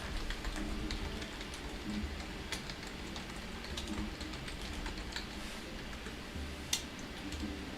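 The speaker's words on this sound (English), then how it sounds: "I'm waiting for you to stop typing." Fingers type quickly on a computer keyboard, a dense, continuous patter of close key clicks with no talking.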